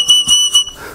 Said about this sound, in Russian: мокрый соловей. Сюда наливается вода,